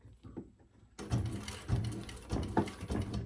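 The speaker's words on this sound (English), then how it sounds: "let's top stitch right there" A sewing machine top-stitches through several layers of leather on a crossbody bag, starting with a sudden steady mechanical run and rattling stitch rhythm after a brief faint moment, up close and without talk.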